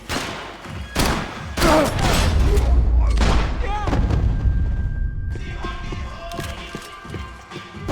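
Loud, close gunfire shots and heavy thuds in a tense armed standoff, several sharp blasts in the first half, followed by quieter rustling as shouting voices continue.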